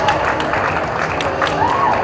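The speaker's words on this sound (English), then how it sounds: "Big round of applause for that." An audience applauds artists at an event with specially abled children, a steady wash of clapping with some crowd murmur and a faint voice underneath, continuous and moderately loud.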